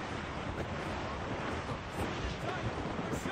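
Strong wind blowing over the open sea in Assassin's Creed Rogue, a steady broadband roar with crashing surf and gusting air, loud and continuous, with a ship's presence suggested underneath.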